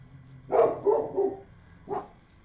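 A parents' dog with bad separation anxiety barks several times in quick succession, then once more after a pause, fairly close by in a quiet room.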